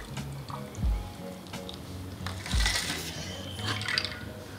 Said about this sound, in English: Then the contents in your shaker, you can pour it on top of the ice cube that's sticking out the most.